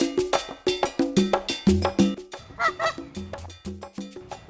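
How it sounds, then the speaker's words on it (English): Goose honking in a rapid, rhythmic run of short nasal honks, close and clear with no talk. "Goose."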